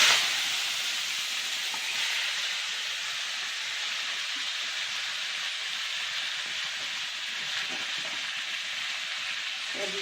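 Dron greens and cut potatoes hitting a hot pan with fenugreek seeds, producing a loud, continuous hissing sizzle that holds steady throughout, with no voices.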